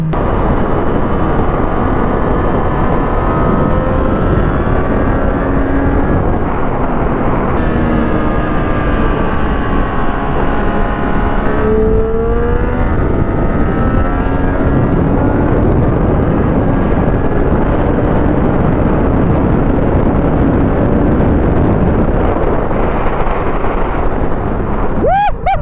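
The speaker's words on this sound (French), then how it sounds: "Qu'est-ce qu'elle est délicieuse cette moto à conduire." A 2023 Triumph Street RS 765 motorcycle being ridden, its engine a loud continuous drone that rises and falls in pitch with gear changes, mixed with heavy wind rush throughout.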